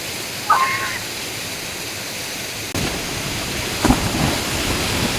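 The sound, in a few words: river water flowing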